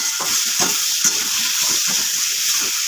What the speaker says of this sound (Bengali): এটা ভালো করে কষিয়ে নিতে হবে তরকারিটা একটু হালকা ভাজা ভাজা হবে